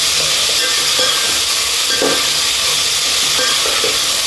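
Chopped vegetable pieces for veg dum biryani frying steadily in a pan, with a constant loud sizzle and hiss and a few soft stirring scrapes, no voices.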